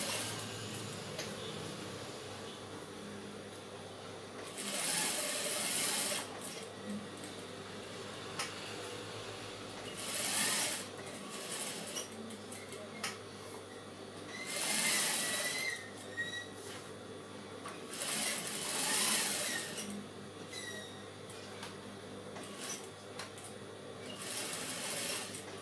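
Sewing machine stitching the lining of a skirt, several short bursts of fast rhythmic stitching separated by pauses, close and clear against a quiet room hum.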